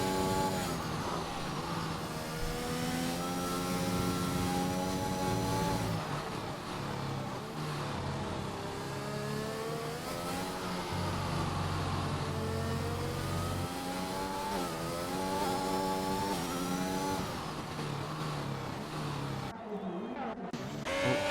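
A race car engine from a sim racing series lap at Brazil revs up and down through gears, harmonics sweeping with each shift and a longer lift mid-run, steady and fairly loud with commentary voices faintly underneath.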